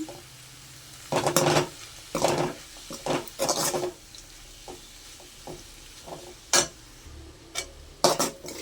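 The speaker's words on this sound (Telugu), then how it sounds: "కారం అయితే వేసేసాను కదా ఇప్పుడు ఒకసారి మిక్స్ చేసేసుకుందాం మొత్తము" Chili powder being stirred into a broad bean fry in a pan, giving intermittent scraping and stirring strokes with a faint sizzle underneath, close and fairly quiet with pauses between strokes.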